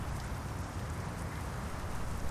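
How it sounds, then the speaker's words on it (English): Gentle rain patters steadily on the roof of a truck cab in Euro Truck Simulator 2, a dense, even hiss of drops heard from inside the cab, close and soft, without talking. "listen to that, the gentle pattering of rain on the top of your cab"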